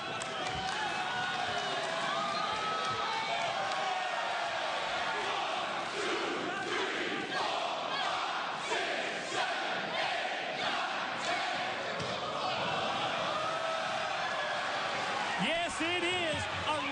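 A large wrestling arena crowd in New York City roars and cheers continuously, loud and dense, with shouts rising throughout.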